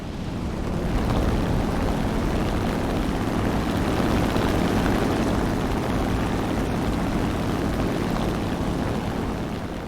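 The steady, droning roar of a Focke-Wulf FW190 F8 fighter-bomber's piston engine in War Thunder naval battles, loud and continuous for the whole stretch with no voices.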